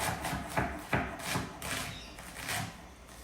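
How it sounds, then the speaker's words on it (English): Knife chopping an onion on a cutting board, the blade staying on the board: a quick, steady run of close crisp taps and soft rubbing strokes, alone without talk. "the knife blade doesn't leave the board, and then that way you can get a smooth cut"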